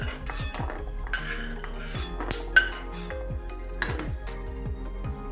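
Roasted almonds scraped and scooped from a metal pan with a spoon, giving a run of close, repeated clinks and scrapes, with no voices.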